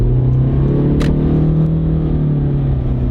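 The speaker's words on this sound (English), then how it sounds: "give it a little gas" A Honda Civic with a CVT pulling away from a stop under light throttle, a loud steady droning engine hum from inside the cabin that holds one pitch, with a brief click partway through.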